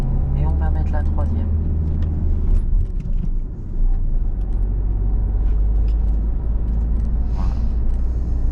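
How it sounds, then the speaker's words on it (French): A car's engine drones at a low pitch as it accelerates during a driving lesson. A steady low rumble fills the whole stretch, with a brief dip partway through, and a voice is heard over it. "On accélère vraiment et on va mettre la 3e"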